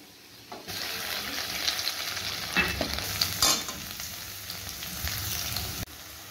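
Chopped ginger and garlic fry in a pan with a continuous, even sizzle and a few soft stirring scrapes, steady from start to finish.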